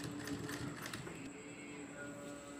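A sewing machine stitches a jute shopping bag with a steady, continuous mechanical whir and rattle. It is faint and even throughout, with no pauses.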